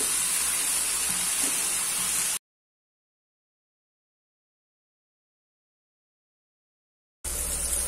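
Chili paneer sizzles and hisses steadily in a hot pan as hot dog stuffing cooks, a close, bright frying noise that cuts out abruptly after about two seconds and returns briefly at the end.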